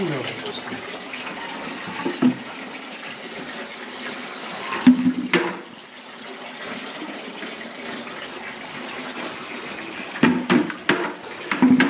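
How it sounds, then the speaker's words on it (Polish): Water pours steadily into a container for calves at a beef cattle farm, a continuous splashing gush lasting the whole stretch, with a few louder sloshes and people talking nearby. "Mam wlewać tą wodę?"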